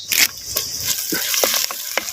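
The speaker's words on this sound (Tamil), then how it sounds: "சின்ன வெங்காயத்தை அப்படியே எண்ணெயில் வதக்கு வதக்கு நல்லா வதக்குறேன்" Small shallots and curry leaves fry in hot oil in a pan, a loud close sizzle with crackling bursts and occasional stirring scrapes, no talking.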